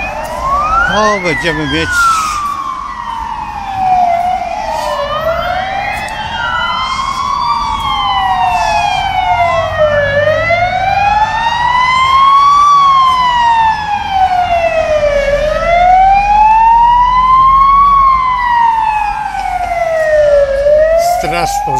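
A fire engine's wailing siren rises and falls again and again as it moves along a city street, loud and close the whole time over traffic noise, while someone speaks a few words in Polish.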